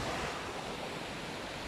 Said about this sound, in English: Oh wow, look at that waterfall.